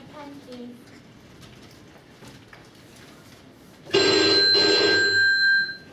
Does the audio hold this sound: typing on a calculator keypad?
no